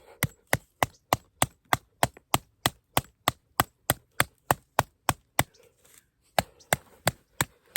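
A BPS Savage knife chops through a piece of wood in a steady series of about twenty sharp, close, loud strikes, evenly spaced, pausing briefly before a few final blows.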